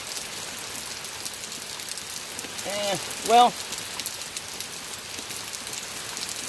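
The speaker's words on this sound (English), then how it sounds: "I think it's going to be raining like this for the rest of the night" Steady rain falls through the night outdoors, a continuous even patter on surfaces, while someone speaks briefly midway.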